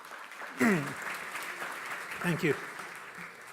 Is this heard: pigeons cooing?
no